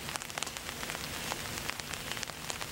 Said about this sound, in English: see if the rain's gonna let up a little bit